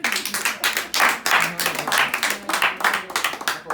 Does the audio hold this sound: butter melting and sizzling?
no